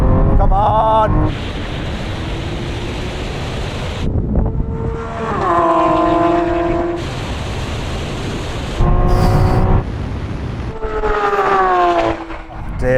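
Two Lamborghinis, an Aventador Ultimae and an Aventador SVJ, accelerate hard in a rolling race from 50 mph, loud V12 engines climbing through gears with clear shift breaks and sharp upshifts, a roaring pair close to the microphone.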